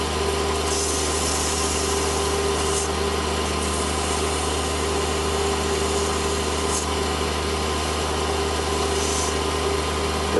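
A mini lathe runs steadily while rust is polished off a collet, giving a continuous motor hum with faint scraping and occasional brief brighter rubbing bursts, loud and unbroken.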